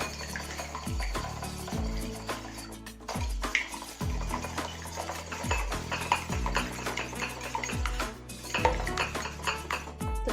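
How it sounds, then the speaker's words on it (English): Two eggs are whisked in a bowl for oat pancakes, with repeated clinks of metal against the dish in a loose rhythm, close and steady for several seconds. "get your 2 eggs ready, and I'm going to whisk them"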